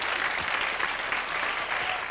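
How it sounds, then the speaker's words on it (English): A studio audience on a game show applauds a contestant, a dense, steady wash of clapping that holds at full strength from start to finish. "Give Dan a big round of applause"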